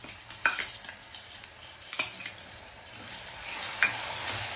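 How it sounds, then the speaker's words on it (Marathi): Chopped tomato added to a sizzling pan for a moong usal, a soft hiss under scattered spoon clinks and scrapes, faint and close. "आता आपण त्याच्यात टमाटा टाकू"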